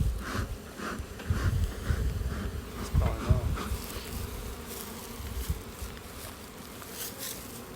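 Honeybees, drones among them, buzz in a dense continuous hum at an open hive during a 4-H beekeeping frame check, close to the ear, with louder swells as individual bees pass near and the odd clink of hive handling.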